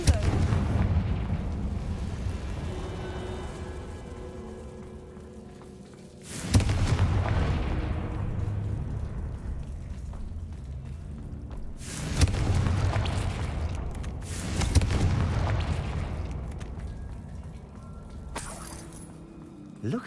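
Blasting spell explosions from the Hogwarts Legacy video game: three deep booming blasts at about seven, twelve and eighteen seconds, each with a long rumbling decay, following a quieter stretch of low rumble.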